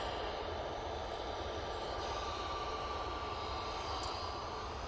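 An easyJet Airbus A320neo at Manchester Airport, heard as a steady, distant jet engine rumble and whine that holds constant throughout.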